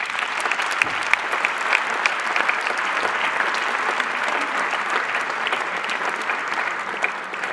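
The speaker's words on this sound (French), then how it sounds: "Je veux bien que vous applaudissiez, les enseignants." A hall full of people at a town mayor's New Year ceremony applauds the teachers with steady, dense clapping that holds at an even volume throughout.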